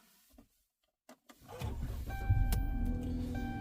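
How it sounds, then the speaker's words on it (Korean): A used car started from the driver's seat during a dealership inspection: faint clicks and a brief quiet pause, then the engine catches and settles into a steady close idle with a faint electronic chime. "차 내부로 들어가서 시동을 켭니다."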